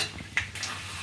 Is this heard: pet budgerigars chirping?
no